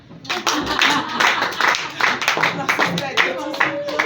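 An audience applauds after a talk, steady clapping from many hands that stays close and full for about four seconds, with voices mixed in under it.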